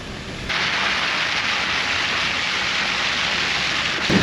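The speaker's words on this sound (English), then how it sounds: "it's raining, so I am recording in the rain" Steady, loud rain pouring down, a dense hiss of drops hitting surfaces that briefly swells near the end; no voices.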